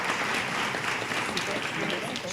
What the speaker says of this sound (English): we do ask that you hold your applause until the end of each row